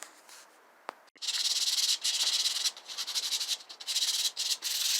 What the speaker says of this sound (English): I'm going to sand that first